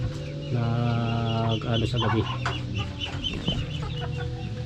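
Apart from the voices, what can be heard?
free-range chickens clucking in their pen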